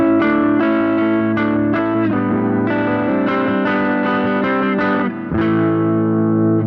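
Softly picked electric guitar through a JHS Morning Glory overdrive pedal, staying nearly clean with a faint edge of added harmonics; a continuous run of plucked notes and chords with no talking.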